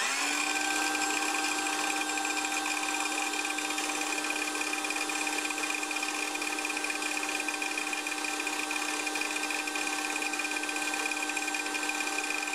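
A 24-volt DeWalt power tool running on an adapted 18-volt Milwaukee battery at about 3,300 to 3,500 RPM gives a steady, loud electric-motor whine that holds constant for the whole stretch with no pauses.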